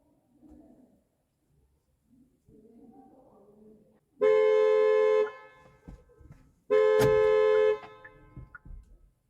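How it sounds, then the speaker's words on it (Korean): A parked car's horn sounds in two long, loud blasts after the engine is switched off and the key turned to off with someone still inside while car camping, following quieter rustling and faint sounds. "차에서 계속 빵빵빵 하고 차 안에 사람이 있다는 신호입니다"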